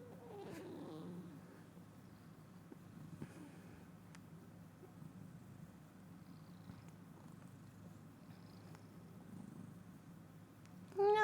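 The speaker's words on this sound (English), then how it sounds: "Does anyone else's cats chirp like that?" A house cat gives a few faint, brief trilling chirps over a low, soft purring rumble, with a slightly louder chirp right at the end, quiet and close.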